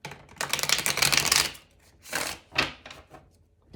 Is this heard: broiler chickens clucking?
no